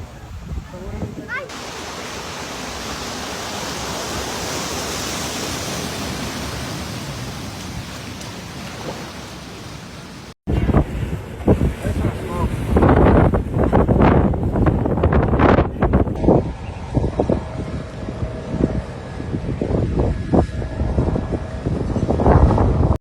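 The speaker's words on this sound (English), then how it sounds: "Hurricane Erin battered coastal communities with strong winds and waves that flooded streets and eroded beaches" Strong winds and pounding ocean surf from Hurricane Erin on the New Jersey coast at Cape May, starting as a steady roar, then turning into loud gusting wind buffeting close against the microphone.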